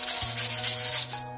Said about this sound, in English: just sanding my broom